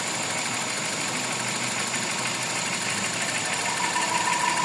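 A Toyota 4A-FE engine idles with an abnormal noise, a steady, dense mechanical whir and rattle heard close up without a break, and no talking.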